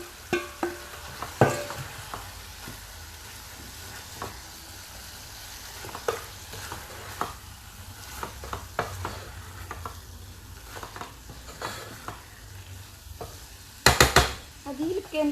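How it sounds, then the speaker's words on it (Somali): Chopped onions and bell peppers sizzle as they fry in a pan for a rice-and-meat dish, with a steady hiss broken by the clacks and scrapes of stirring and a burst of louder clatter near the end. "hadeertaan waxaan kusoo darsan doonaa basal iyo barbarooni aa soo jarjaray"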